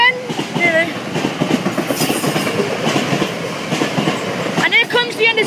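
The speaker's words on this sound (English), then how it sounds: "That freight train filled all 3 level crossings." A freight train from an oil refinery rolls past a level crossing, its wagons loud and near with a steady clickety-clack and some wheel squeal. A brief voice is heard near the end.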